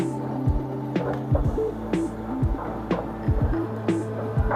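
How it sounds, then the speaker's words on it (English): An M5 line metro train pulls into Garibaldi station in Milan with a low, steady electric hum and throb, its pitch sliding and stepping as it slows, while faint clicks and clunks recur over the drone. "That is the train,"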